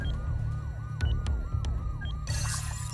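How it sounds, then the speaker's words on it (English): Home security alarm in the South Park video game wails in repeating rising-falling sweeps, steady and moderately loud with sharp clicks, then a burst of broadband noise near the end. "I live here and I can't remember my code to turn off the dang alarm"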